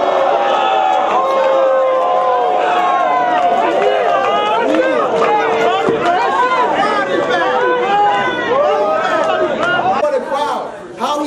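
A battle rap crowd roars continuously at close range, a dense wall of shouting, whooping and chatter that barely dips throughout.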